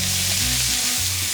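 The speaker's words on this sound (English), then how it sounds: "Now that the pancetta is nice and golden, we're gonna add onion and garlic." Golden pancetta with freshly added onion and garlic sizzles loudly in a pan, a brief, dense, steady frying hiss heard up close without speech.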